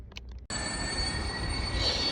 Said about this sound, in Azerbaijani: Çatdıq Dəmir Yolu Vağzalına.